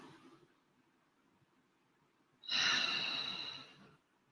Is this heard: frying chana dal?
no